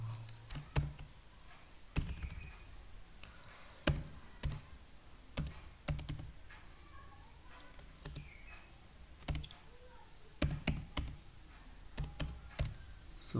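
Keystrokes on a computer keyboard while typing an HTML comment, sparse sharp clicks in uneven bursts spread across the stretch, close and fairly quiet, with no talking.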